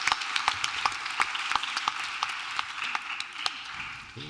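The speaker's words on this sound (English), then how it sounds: "Big round of applause" A conference crowd at a Bitcoin pitching competition claps in a steady wash of applause, with a few sharper, closer claps standing out and the sound easing off toward the end.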